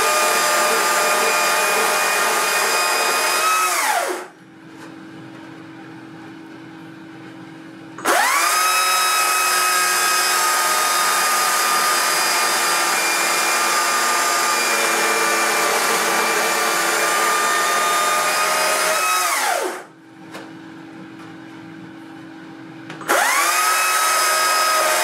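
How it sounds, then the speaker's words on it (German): A chainsaw cuts the large center core from a redwood end-grain bowl blank, roaring loudly and close for long stretches and dropping twice to a lower idle drone. "Den großen Zapfen in der Mitte entferne ich mit der Kettensäge"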